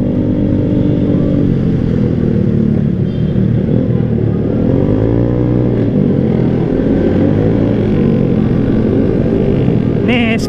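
A Honda Vario 150 scooter pulls hard on a test ride in Bogor, its engine note droning loud and continuous with wind buffeting the rider's mic, the pitch climbing and wavering as it gains speed.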